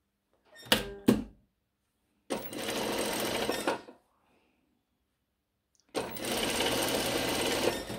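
Sewing machine stitching a first assembly seam on a Vanille shirt, running in three bursts: a short double stutter, then two steady runs of about a second and a half and two seconds, with quiet gaps between.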